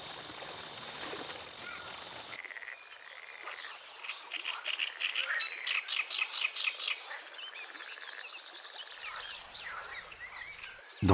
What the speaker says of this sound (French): Dans le marais, le son des hippopotames se mêle au chant insolite d'un des batraciens les plus spectaculaires d'Afrique, la grenouille taureau.